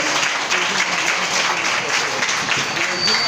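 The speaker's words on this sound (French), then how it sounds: "Applaudissements s'il vous plaît." Loud, dense applause from a congregation at a Sunday worship service, continuous clapping filling the whole moment.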